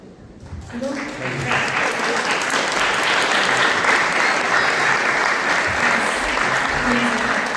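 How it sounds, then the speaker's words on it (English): A lecture audience at a Sunday feast in a temple breaks into sustained applause that swells within the first second and holds steady and loud throughout, with a few voices faintly mixed in. "keep the round of applause going"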